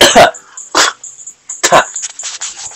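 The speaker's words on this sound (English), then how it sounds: "Freaking cough and sneeze at the same time." A person lets out a combined cough and sneeze in a few sharp, loud, close bursts while playing Mario Kart.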